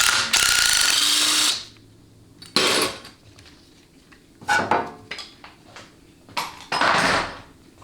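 A ratchet wrench works an 8mm bolt on the harness bracket of a 4L60E transmission during teardown, giving several close, loud bursts of rapid clicking separated by short pauses.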